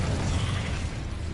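Confringo blasting spell effect in a Harry Potter wizard video game: a short, continuous roaring burst of noise, loud and close, holding steady for just over a second.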